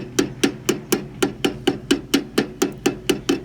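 Steady metallic hammer taps around the edge of a wheel bearing being seated, about fourteen evenly spaced strikes in quick rhythm, close and clear with no talking.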